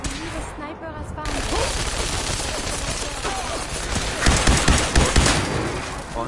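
Sniper fire and other gunfire in the video game Fallout 4: loud cracks and bursts, heaviest near the end, mixed with game voices and a dense combat din.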